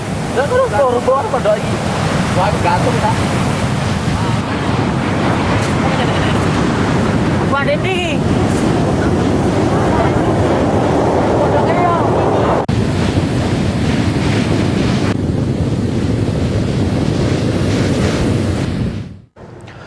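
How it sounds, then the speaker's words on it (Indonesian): High ocean waves crash continuously onto the southern shore of Java in West Java, a loud, steady roar of surf with heavy wind buffeting the microphone, fading out abruptly at the end. "gelombang tinggi menghantam pesisir selatan Pulau Jawa, diantaranya di wilayah Jawa Barat"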